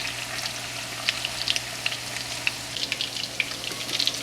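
Meatballs fry in a pan with a steady crackling sizzle and bright popping spatters scattered throughout, fairly close and alone without voices.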